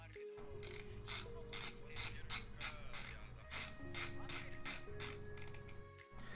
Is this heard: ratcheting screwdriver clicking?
yes